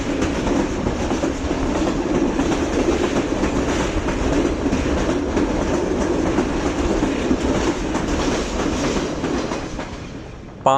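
The Green Line Express passenger train runs steadily on the rails between Rawalpindi and Lahore, a loud continuous rumble with rhythmic clickety-clack from the wheels, heard from inside the carriage.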